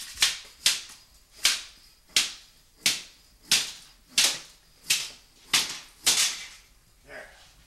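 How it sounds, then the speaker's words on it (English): Eleven sharp, evenly spaced metallic snaps ring out up close as a tool cuts the screws off a metal floor transition strip, each crack with a short ringing decay, alone without speech. "I'm going to cut the screws right off with this."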